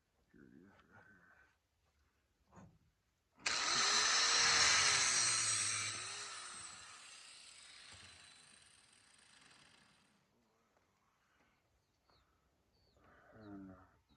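A small handheld grinder spins up and cuts into a scrap metal water fountain, a loud hissing screech lasting several seconds that fades out, with someone talking briefly before and after.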